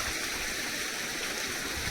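Water running in a spring-fed pool in the forest makes a continuous close bubbling rush, with no speech and no break in it.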